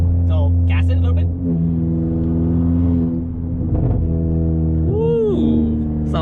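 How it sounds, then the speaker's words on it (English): A 10th-gen Honda Accord 1.5T with a loud KTuned 3-inch exhaust drones and rumbles deeply close by. Revs shift, and a few brief pops and crackles come off throttle, while people talk over the engine. "if you go down just by one, you can actually let go of the gas, you can hear it pop"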